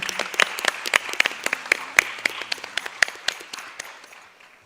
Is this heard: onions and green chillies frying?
no